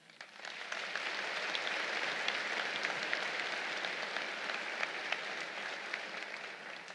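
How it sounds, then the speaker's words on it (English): Sustained applause from a large audience at a Corps of Cadets commencement ceremony for the class of 2023, a steady dense wash of clapping that fills the hall from start to finish without speech. "Please join me in a round of applause"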